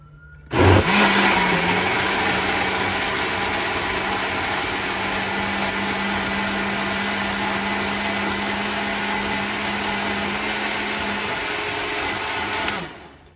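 A blender purees warm birria sauce with a towel over the top, starting with a sharp jolt, then a steady loud whir that holds for about twelve seconds before cutting off, no speech.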